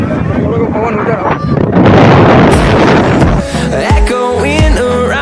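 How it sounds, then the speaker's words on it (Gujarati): Strong gusting wind at the seashore of Dumas Sea Face buffets the microphone in loud, roaring surges that swell in the middle, with a voice faintly underneath. "દરિયા કિનારા પાસે પવન તો વધારે જોવાનું છે"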